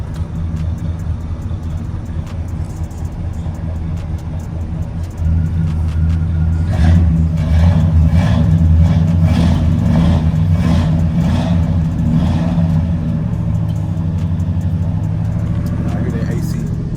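A Chevy engine runs steadily with a newly fitted Summit alternator, a loud close rumble that steps up partway through and holds a rhythmic pulsing hum, with people talking over it.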